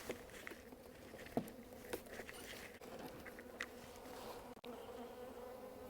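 Honeybees buzzing in a freshly opened hive in spring, a faint steady hum with occasional brief clicks and taps of frames being handled nearby, no voices.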